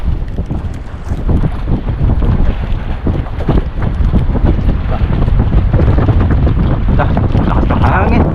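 Strong wind roars steadily across the microphone outdoors near a boat, loud and continuous throughout with heavy low rumbling buffeting.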